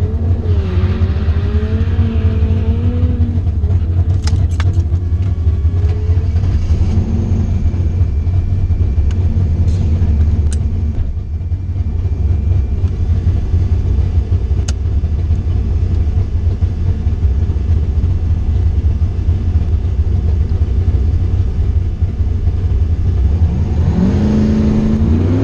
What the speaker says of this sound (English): we're going up against a big tire S10. Sounds like it's got a big block or something in it.